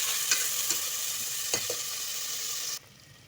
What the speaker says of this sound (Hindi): हम प्याज को बस इतना फ्राई करेंगे।